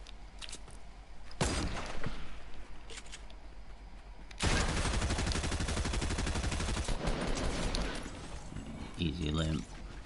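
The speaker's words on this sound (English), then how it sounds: "Let's take one shot with the sniper." A loud sniper rifle shot in Fortnite, a sharp blast followed later by a longer burst of heavy gunfire, with quieter game sounds and a voice talking in between.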